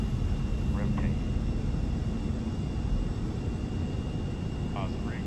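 Jet aircraft engines of an E-4 at takeoff thrust, a loud steady roar filling the clip with constant rumble, while crew voices talk quietly over it.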